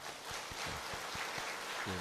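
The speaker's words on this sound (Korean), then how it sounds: "우리 한번 시원해지라고 박수 한번 쳐줄까요?" A church congregation applauds during Sunday worship, a steady dense wash of many hands clapping together at moderate volume, with a few faint low thumps underneath and no clear talk.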